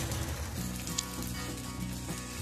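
Rice ghavan batter sizzles steadily in a hot pan, a dense continuous crackling hiss with no break and no voices.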